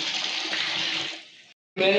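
A can of water poured into a large pot for cooking mutton biryani, a loud steady rushing gush that tapers off, breaks briefly, then surges again as more water goes in.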